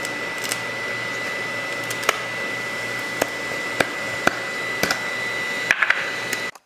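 An Ortur Laser Master 3 diode laser cuts through half-inch plywood with a steady whirring hum, broken by sharp clicks and ticks from the moving gantry at irregular intervals.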